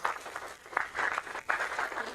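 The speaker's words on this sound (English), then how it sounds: "Can we give a clap to my speaker" Audience clapping for the Deputy Speaker of Senate at a geopark capacity-building workshop in a Kabarnet resort hall, a continuous, moderately loud patter that swells and dips in waves.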